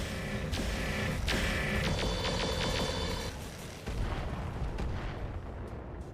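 Mech weapons fire in the video game Roguetech as a run of loud, heavy booming shots and bursts that overlap densely, with a brief dip before the barrage resumes.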